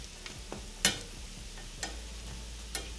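Jamaican dumplings fry in a pan, giving a steady soft sizzle broken by a few sharper clicks and pops as they are turned over, with no voices.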